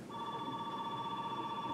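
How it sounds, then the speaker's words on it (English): A telephone rings indoors with a steady, continuous electronic tone that holds for about two seconds, moderately quiet and heard alone with no talking. "The phone's ringing."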